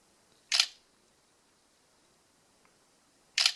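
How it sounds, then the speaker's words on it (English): Two crisp Lenovo Vibe X3 smartphone camera shutter clicks from the front speakers, about three seconds apart, each short and bright over near silence. "the click from the camera, the shutter sound from the camera coming through those front speakers"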